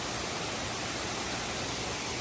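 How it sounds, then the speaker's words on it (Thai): Waterfall in a rubber plantation, a dense, steady rushing roar of falling water that fills the whole clip evenly, with no voices. "น้ำตกในสวนยางทุกคน"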